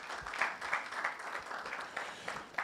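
Applause at a national science and maths quiz championship launch event, a steady wash of clapping from an audience, moderately loud and fairly even with slight swells, no voices over it.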